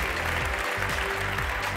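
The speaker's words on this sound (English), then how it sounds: "Please, a round of applause for the foundation as well." Applause from the audience at the Singularity University Summit in Spain, a dense and steady wash of clapping held at an even loudness from start to finish.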